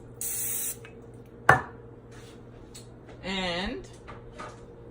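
A spray bottle or can gives short hissing bursts over chicken pieces ahead of oven-frying with lemon pepper: one spray near the start, another later, with a clatter of kitchen handling between them.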